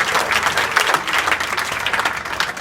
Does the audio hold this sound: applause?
yes